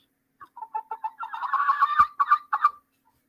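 Chickens cluck in a rapid, rising run of sharp calls that swell into a louder burst before trailing off, close and clear with no voices.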